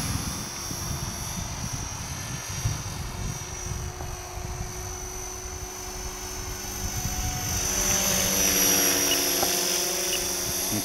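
An Align T-Rex 470LP RC helicopter flies nearby with a steady high-pitched rotor whine and buzzing motor hum, swelling slightly louder toward the end, with no talk.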